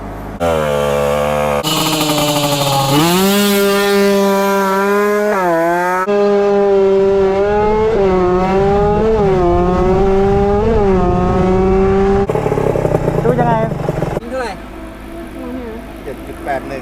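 A Yamaha TZR two-stroke motorcycle fitted with a big carburettor revs hard and accelerates, its loud buzzing engine note climbing and falling through repeated gear changes, with a rider's voice in the middle.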